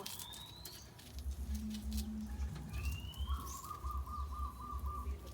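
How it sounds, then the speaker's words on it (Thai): Faint rain patters steadily outdoors, with scattered bird chirps and calls over it. "ฝนตก"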